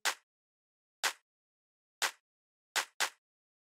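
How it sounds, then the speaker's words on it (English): A hard-hitting, saturated clap sample from a melodic house beat, sounding alone as five sharp, bright hits, roughly one per second, with the last two close together. "just kind of like a pretty hard-hitting clap"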